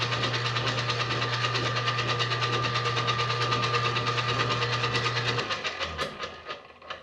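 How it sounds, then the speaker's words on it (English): A stand mixer fitted with a dough hook runs for several seconds, a steady whirring drone with rhythmic pulsing that slows and fades toward the end, close by with no talk. "I'm just going to put this on the machine, the dough hook."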